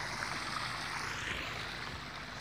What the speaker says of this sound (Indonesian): kolam saya ini saya buat sirkulasi air mengalir